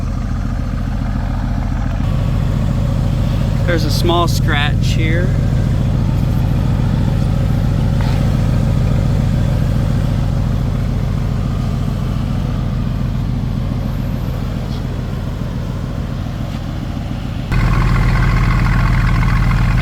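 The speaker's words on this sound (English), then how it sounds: "Engine's running, sounds good." A 2017 Mercedes-AMG GT V8 turbo coupe in sport mode idles close by with a steady, rumbling deep low drone, while a person speaks briefly over it.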